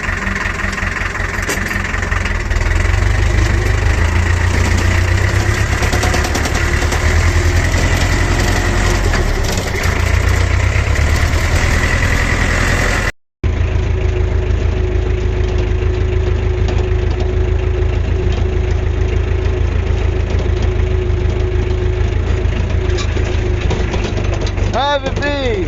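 A farm tractor's engine idling close by, a loud continuous low rumble with knocking texture, briefly cut off mid-way before resuming just as steadily.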